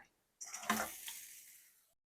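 Onion, ginger, garlic, cashews and green chilies hit hot oil in a pan with a sudden close sizzle that swells, then fades into a softer hiss over about a second and a half.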